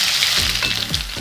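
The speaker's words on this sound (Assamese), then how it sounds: "তাৰপিছত এতিয়া মই পিঁয়াজ কাটি থোৱা পিঁয়াজখিনি ইয়াতে দিম" Chopped onions hit hot oil with a bay leaf in a pan, giving a brief burst of steady, close sizzling with a few soft stirring scrapes.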